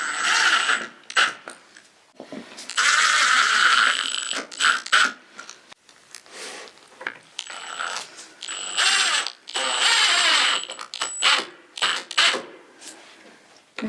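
Screws are driven into wooden planks of a rowing and sailing dinghy being built, with repeated bursts of a whirring, ratcheting power driver, each lasting a second or two, separated by short pauses, close and fairly loud.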